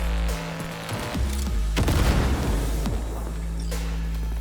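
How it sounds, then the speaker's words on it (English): A grenade goes off in the Cyberpunk 2077 video game: a loud, sharp blast near the middle with rattling gunfire-like bursts around it, over a steady low game hum. "How do I throw a grenade?"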